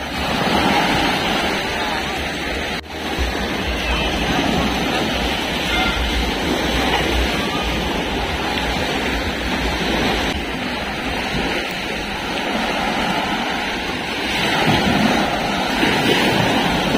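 Ocean surf washes steadily onto Padang-Padang Beach in Bali, a broad roaring rush with wind buffeting the microphone.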